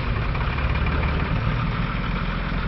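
A six-wheel truck idles at the edge of a pit, its engine giving a steady, continuous low rumble with a constant even drone throughout, close and fairly loud with no talking over it.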